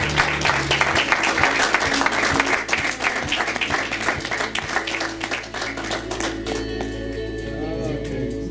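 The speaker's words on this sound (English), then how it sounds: "applause to everyone" A graduation audience at a wellness center claps warmly, a busy close burst of many hands with individual claps standing out, continuing steadily before easing off as voices carry over it.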